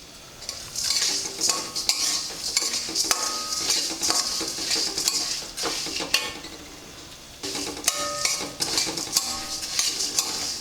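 Coriander seeds dry-roasting in a pan for Karnataka bisibelebath powder, a spatula stirring and scraping steadily with a dry rattling hiss throughout, close and fairly loud, with one brief pause midway and no talk.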